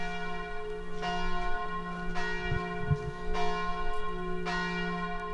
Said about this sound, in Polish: Akurat przy poświęceniu tej tablicy zadzwoniły nam dzwony